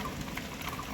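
Steady rain continuing after a heavy downpour outdoors, a constant soft hiss of falling water at moderate volume.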